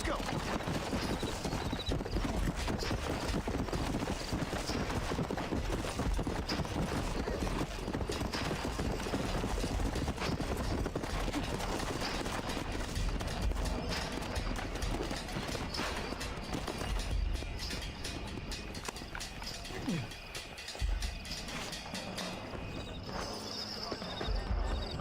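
Horse hooves clip-clopping on the ground in the Red Dead Redemption video game, a steady trotting rhythm mixed with game music and ambient noise, with occasional distant gunfire-like pops and a horse whinny.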